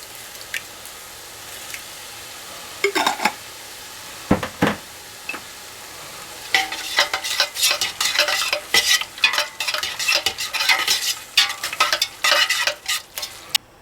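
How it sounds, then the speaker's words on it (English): Beef browns in a pan for a taco casserole. Quiet frying opens with a few isolated knocks, then dense, rapid scraping and clattering from stirring builds up, close and loud, and no voices are heard. "We're going to cook the beef until it's brown."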